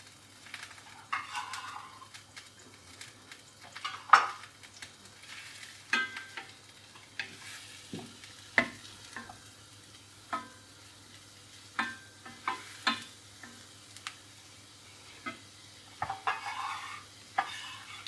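Mushrooms sizzling quietly in a saucepan of butter and vegetable oil, with a steady soft fry under repeated scraping and stirring strokes of a utensil against the pan.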